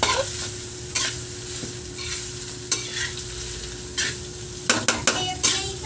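A homemade snack mixture stirred in a pan, with scraping and clanking utensil strokes against the metal over a light sizzle, close and fairly loud, and a cluster of quicker clatters near the end.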